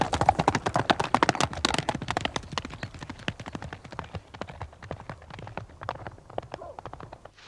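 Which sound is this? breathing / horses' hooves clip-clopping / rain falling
horses' hooves clip-clopping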